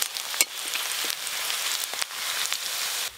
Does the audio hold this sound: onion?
yes